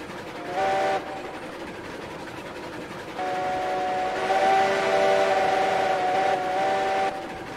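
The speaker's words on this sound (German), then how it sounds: "Oh, die Pfeife haben sie aber angepasst." A steam train whistle in the railroad video game Railroads Online blows in two sustained tonal blasts, a short one and then a longer one, over steady rolling rail noise, with no talking.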